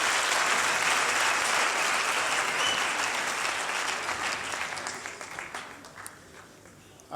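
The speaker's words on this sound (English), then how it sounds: "another round of applause for the choir" An audience applauds the choir at a VUT inauguration ceremony, a full room of clapping that stays loud, then thins and fades toward the end, with a few murmuring voices.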